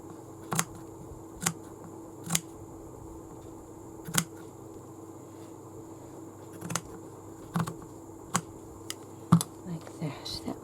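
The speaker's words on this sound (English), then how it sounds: "So that doily needs cutting to size." Scissors snip a lace doily to size in sparse, sharp clicks spaced a second or so apart over a quiet background hum.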